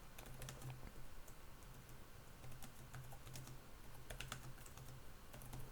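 Fast, steady typing on the keyboard cover of a Samsung Galaxy Tab S6 tablet, a dense run of light plastic key clicks close by for several seconds, with no talk.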